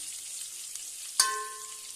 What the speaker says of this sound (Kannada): ಇವಾಗ ಕರಿಬೇವನ್ನು ಹಾಕ್ಕೊಳ್ತಾ ಇದ್ದೀವಿ